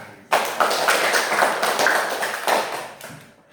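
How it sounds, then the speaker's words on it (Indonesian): A classroom of schoolchildren breaks into a round of hand clapping: a dense, close patter of many small hands that starts abruptly and carries on for about three seconds before tapering off. "Kasih tepuk tangan."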